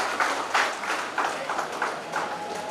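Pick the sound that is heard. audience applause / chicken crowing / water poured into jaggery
audience applause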